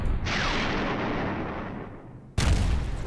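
Artillery fire in the Panzer Campaigns Kiev 43 wargame, a loud booming blast that rolls on for about two seconds, then cuts to a second heavy explosion.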